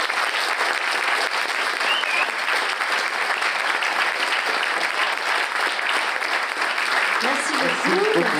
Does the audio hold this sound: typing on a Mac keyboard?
no